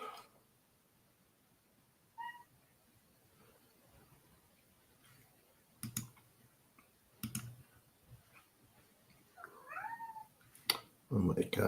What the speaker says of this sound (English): Oh my gosh, what's with this cat?